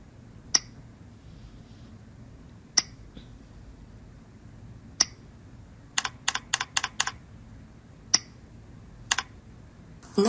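Someone types on a computer keyboard while entering mileage into an expense report, with scattered single key presses and one quick burst of several keystrokes, close and clear in a quiet room.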